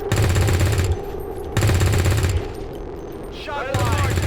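Automatic weapons fire in bursts during an XCOM 2 Long War 2 battle, loud and close, stopping and starting with short gaps and a brief electronic warble near the end.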